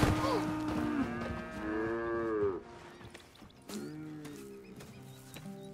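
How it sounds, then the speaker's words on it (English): Cows mooing on a dairy farm, several long, loud lowing calls close by, one after another with brief gaps, no talking. "Here's the cows."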